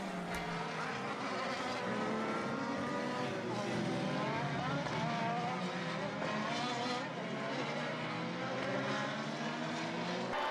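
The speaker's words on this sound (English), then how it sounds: "The rev soars, the entire field builds itself back up to speed once more." Formula BOSS race cars at a 2021 round in Ireland rev hard as the whole field accelerates back up to speed after a safety car period, a dense, continuous roar of engines with rising pitches sweeping past at a steady loudness.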